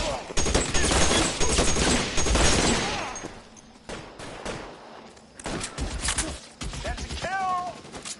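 Rapid bursts of gunfire in an L.A. Noire shootout on PS4 Pro, dense volleys in the first few seconds, then sporadic shots and a later cluster, with voices talking over the fighting.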